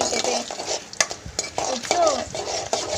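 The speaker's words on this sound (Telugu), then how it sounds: "కొంచెం కరివేపాకు వేసుకొని ఫ్రై చేసుకోవాలి" Peanuts and curry leaves frying in a pan over a medium flame for spicy rice, with close, busy stirring scrapes and clinks over a light sizzle and no talking.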